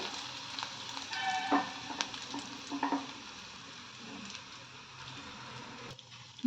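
Crushed ginger and garlic fry with cumin in hot oil for a lemon rasam, giving a soft, steady sizzle broken by a few sharp spoon knocks and scrapes as the mixture is stirred in the pan.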